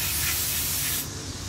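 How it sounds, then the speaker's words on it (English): Short, close burst of aerosol carburetor cleaner sprayed onto the float holder of a carburetor during a Dynojet rebuild, a loud broad hiss that cuts off after about a second. "Spray it."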